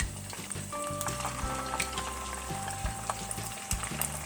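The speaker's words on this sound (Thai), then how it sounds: "เอาค่อยๆลงทอดนะคะ" Keto batter-coated salmon belly pieces being lowered into hot oil, a steady close sizzle and bubbling with scattered crackles and light clinks of utensils.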